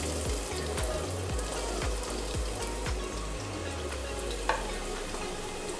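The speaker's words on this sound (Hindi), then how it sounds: "प्याज को हम हल्का फ्राई कर लेंगे।" Onions sizzling lightly in hot oil in a pan, a steady crackling fry with occasional stirring scrapes, close and continuous.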